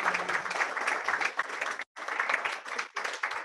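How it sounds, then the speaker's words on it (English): Applause from an audience at a live coding challenge results announcement as tied finishers stand, brisk clapping broken by a brief gap and then resuming. "Yeah, applause."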